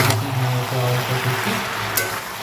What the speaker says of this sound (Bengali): এবার আমি নাড়তে নাড়তে ভেজে নেবো।